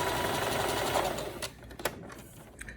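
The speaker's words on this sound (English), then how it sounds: "With a serger is gonna chop off all that extra, anything past where you stitched." A serger stitches and trims fabric for a stripper one-piece costume, whirring loudly and steadily for about a second and a half before stopping, followed by faint handling clicks.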